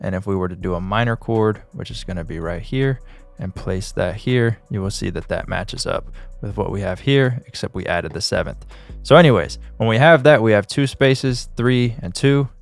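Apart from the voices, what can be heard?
No distinct noise like a dog, phone or traffic.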